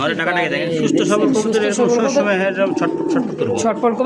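A pair of black Lahori Sirazi pigeons coo repeatedly at close range. Their throaty rolling calls overlap continuously, with a voice talking briefly among them.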